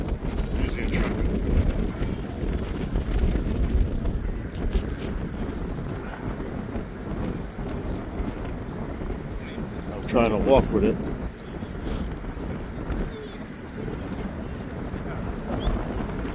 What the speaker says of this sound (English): This is not a good day to be out there doing this. It's windy.